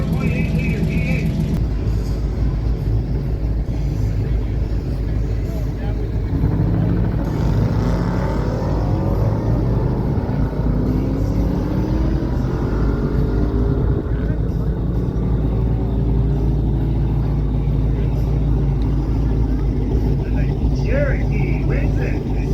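Engines of a Jeep Cherokee and a 2014 Porsche Cayenne GTS with a 4.8-liter V8 drag racing, a steady loud roar that rises and pulls through the run, with a commentator talking over it throughout.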